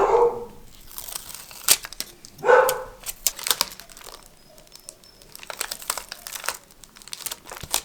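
Adhesive backing peeled away for a homemade pot cozy, close crinkly crackling and tearing rustles in uneven bursts, with a couple of brief low thumps.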